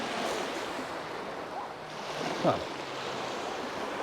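Small incoming tide washing onto the Bristol Channel shore, a steady wide hiss of gentle surf with some wind noise, and a brief exclamation from a nearby voice partway through.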